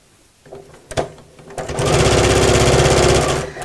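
A sewing machine runs steadily through layered fabric of a twisted tote bag, stitching around three pieces at once; after a few light clicks it settles into a loud, continuous motor hum for about two seconds.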